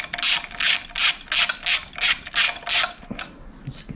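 A ratchet wrench works a nut off the coil wire on a Honda engine, giving eight quick, loud bursts of clicking in steady rhythm, then a few softer clicks as it slows.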